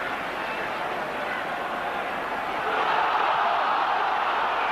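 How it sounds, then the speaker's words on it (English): Rugby league Challenge Cup crowd at Wigan versus St Helens roars over a knock-on, a broad distant wall of voices that swells louder partway through. "The crowd roaring for a knock-on"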